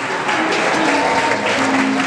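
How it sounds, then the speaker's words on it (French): A congregation applauds at a church jubilee celebration, a steady, dense wash of many hands clapping together, fairly loud and sustained with no speech over it. "est-ce que nous pouvons applaudir Dieu pour cette merveilleuse femme?"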